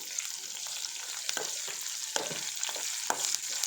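Curry leaves sizzle and crackle steadily in hot tempering oil with garlic, making a dense hiss with sharp pops throughout and no talking.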